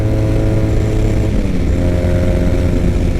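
A 2006 Triumph Bonneville motorcycle engine, recently revived after sitting unused, roaring loud and close while ridden at speed, a dense steady drone with the pitch shifting as it pulls, no talking.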